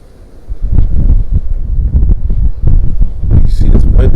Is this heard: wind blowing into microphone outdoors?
yes